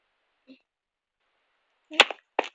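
Gunfire in a Minecraft adventure map: a faint click, then a sharp crack followed quickly by a second shot, alone and close.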